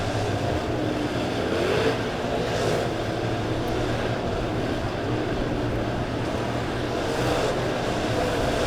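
Race cars in a Malvern Bank Cash Money Series A-Main thunder down the front straightaway at Springfield Raceway, a steady, loud engine roar that holds without a break, alone and unaccompanied by talk.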